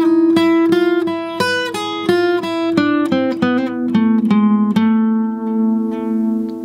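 Acoustic gypsy jazz guitar lick played slowly, a steady run of clearly picked single notes with sliding pitches, close and alone, ending on a long ringing note.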